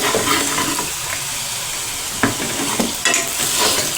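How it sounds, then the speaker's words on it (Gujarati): Brinjal curry with spices is stirred in a pan, a wet, scraping swirl over a constant sizzle, with a few sharp knocks of the spoon against the vessel, close and fairly loud with no voices. "હવે આપણે તેને હલાવીને મિક્સ કરી લઈશું।"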